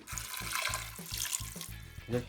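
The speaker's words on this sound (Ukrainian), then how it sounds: "Заливаю його 1 е, літр води" Water from a tap runs into a pot of meat for Transcarpathian paprikash, a steady splashing pour broken into short pulses, close and fairly quiet, with no talk.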